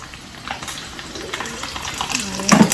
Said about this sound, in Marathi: आणि मिरच्या आपल्या फ्राय होणार आहेत